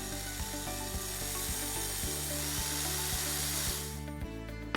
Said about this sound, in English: let's drill these holes. You want to drill them straight, you want to drill them all the way through.